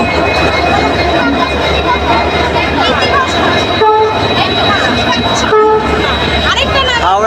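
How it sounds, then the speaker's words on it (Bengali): The Howrah–Puri Superfast Express 12837 pulls into platform 22 at the Kolkata terminus with a loud, steady rumble, a sustained horn tone and a bustling crowd on the platform close by. "train number 12837 Howrah Puri superfast এখন ঢুকছে 22 নম্বর প্ল্যাটফর্মে"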